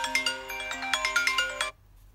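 A smartphone ringtone plays through the phone's loudspeaker during a speaker test: a bright, quick melody of repeated notes that runs for under two seconds and then cuts off abruptly.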